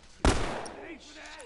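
A single loud gunshot rings out in The Last of Us, sharp and close, followed by a fading echo and low background noise.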